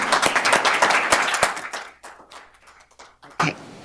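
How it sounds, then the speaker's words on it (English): Applause from a meeting audience at a hospital board of managers session, dense clapping that thins into scattered claps, falls quiet, then ends with one last short burst. "I want y'all to hold y'all applause until I get through"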